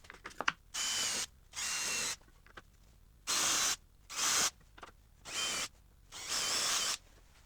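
A power drill with a 5mm bit drills holes in plywood drawer faces in seven short, even bursts with brief quiet gaps between them, close and fairly loud, with no talking.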